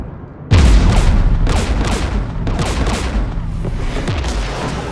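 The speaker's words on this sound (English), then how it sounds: "We're taking fire." Sustained gunfire in the video game Mass Effect 3 during a fight at a Geth jamming tower with anti-aircraft guns, a loud burst starting abruptly and continuing as repeated booming shots and crackling volleys with no voices.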